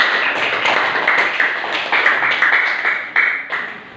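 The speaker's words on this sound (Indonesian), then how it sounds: "tepuk tangan dulu untuk kelompok 3" A classroom of students claps for a presenting group, loud close clapping in a steady patter with a few sharper individual claps standing out near the end.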